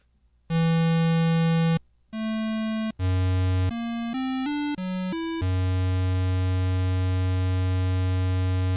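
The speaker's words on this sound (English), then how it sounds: "That's what a square wave sounds like." Square wave oscillator on a Korg Electribe 2 synthesizer playing a loud, buzzy sequence of sustained notes, starting with a long low tone, then short steps up and down in pitch, and ending on a long held low note, with no talking.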